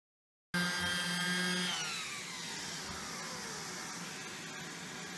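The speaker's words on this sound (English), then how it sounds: "clean up the back side by using a sander" A power sander runs on the back of a resin-coated wooden cheeseboard shaped like a surfboard. It starts abruptly with a loud, steady whine, then its pitch slides downward as the motor note changes, leaving a sustained hiss.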